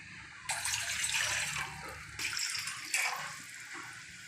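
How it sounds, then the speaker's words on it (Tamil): Water pouring steadily into a pot in bursts, about three tumblers for a dry ginger and coriander decoction, a broad hissing splash that pauses briefly and resumes, close by with no talking. "கஷாயத்துக்கு தண்ணி ஊற்றிக்கலாம் ஒரு மூணு டம்ளர் அளவுக்கு"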